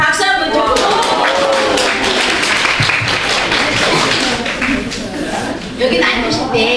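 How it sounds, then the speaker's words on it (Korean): Clapping from a classroom audience at a primary school communication session, a dense wash of many hands sustained and fairly loud, with voices mixed in underneath. "그런 의미에서 박수 한번 주세요."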